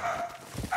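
A dog barks in a first-person shooter video game, a short burst of one or two barks heard over game noise.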